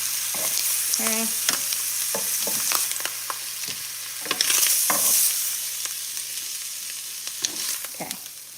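Pork chops crackle and sizzle as they go from one frying pan into another hot buttered pan, a steady close frying hiss broken by utensil scrapes and a brief voice.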